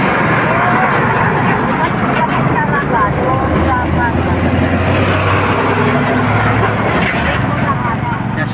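A loud truck engine drones steadily and close throughout, a dense rumbling roar with faint voices under it, heard during a family's road trip home to the province of Samar and Palo, Leyte.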